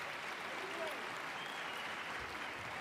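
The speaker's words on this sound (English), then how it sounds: "Crowd comes to life, getting behind their national champion" Arena crowd at a Big Ten college wrestling dual, Nebraska vs. Penn State, roaring steadily behind their national champion, a dense continuous wash of cheering and applause throughout.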